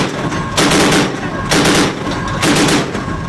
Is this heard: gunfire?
yes